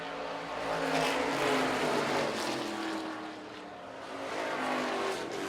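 Street stock race cars roar around the Lancaster Motorplex oval, a loud continuous engine drone swelling and easing slightly as the pack works through the turns, with no voices.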